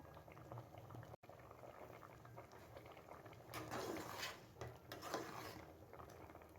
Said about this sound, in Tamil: ஒரு 5 நிமிஷம் வந்து குழம்பு நல்லா கொதிக்கட்டும்